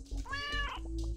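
Cat meowing in a video game, a single clear mid-length meow with a rising-falling pitch over a soft background hum.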